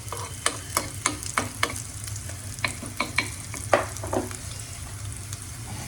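Ginger and garlic frying in a pan, a soft continuous sizzle punctuated by a quick series of sharp spoon taps and scrapes against the pan, close and fairly quiet with no speech.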